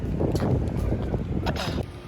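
Strong wind blows hard outdoors, shaking all the trees, producing steady loud rumbling gusts and buffeting against the microphone, with a few faint voices underneath.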